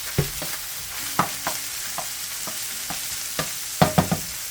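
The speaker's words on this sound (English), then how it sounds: "let's go ahead and get this hamburger cooking up so I can add the onion to it" Ground beef browning in a frying pan crackles with a soft sizzle, punctuated by repeated spatula taps and scrapes against the pan, close and alone.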